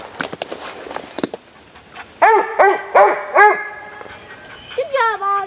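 A hound dog on a summer squirrel hunt outdoors barks four times in a quick, evenly spaced run, loud and close, followed by a higher whining yip, with scattered rustling and clicks before the barking.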